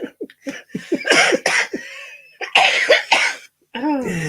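A person coughs several times in quick, close bursts, some sharp and some rough like throat clearing, broken by laughter and other voices chuckling nearby.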